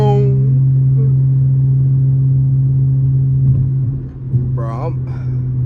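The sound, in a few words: Dodge Challenger SXT Plus engine accelerating in sport mode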